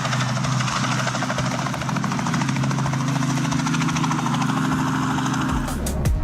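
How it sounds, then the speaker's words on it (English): A helicopter striking power lines: steady loud rotor chop and engine drone that runs continuously, then breaks off near the end into a few sharp bangs and a falling rumble, with no one talking. "A helicopter colliding with power lines looks dangerous."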